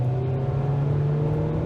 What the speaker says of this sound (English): you can hear the engine working, right?